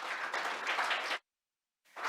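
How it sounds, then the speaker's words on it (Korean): Audience applause welcoming the environment minister at a water and wastewater association's 20th anniversary ceremony: a steady burst of clapping that stops abruptly, a stretch of silence, then clapping resuming near the end. "큰 박수로 맞이해 주시기 바랍니다."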